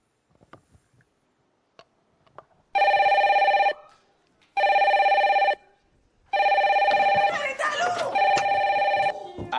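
A telephone rings in a house during a reality TV show, with three loud electronic ring bursts of about a second each. A voice begins talking over the last ring.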